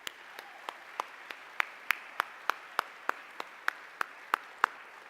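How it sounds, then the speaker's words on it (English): Claps ring out in a slow, evenly spaced rhythm at a spring dinner event, about sixteen distinct sharp claps over five seconds, fairly faint against a quiet room. "Let's have another round of applause for them."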